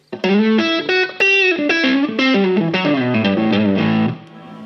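Distorted electric guitar plays a bluesy lead line through a Flamma FX200B multi-effects pedal on its Blues Lead preset, sustained notes and bends, loud and close, fading out at the end.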